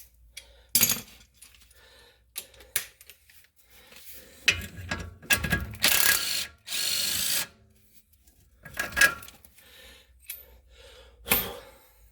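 Ratchet and hand tools at work removing a bolt during front passenger axle shaft replacement on a 2004 BMW 325xi E46, heard as scattered clicks and clanks with a few longer bursts of ratcheting, close by with no talk.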